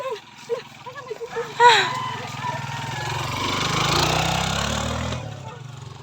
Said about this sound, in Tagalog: Hay, may motor.